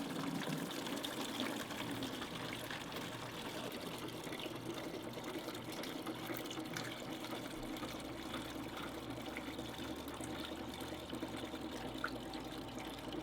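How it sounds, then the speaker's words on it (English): A Taylor 341 soft-serve machine runs its wash cycle, giving off a steady, continuous mechanical whir and low hum with a wet, sloshing wash underneath, constant in level throughout with no voices. "we're going to turn on wash cycle and remove all of our product"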